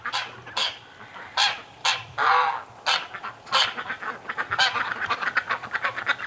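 Outdoor ducks, kept outside because the barn is too warm, give loud, repeated honking quacks in uneven bursts, close by and with no voices over them.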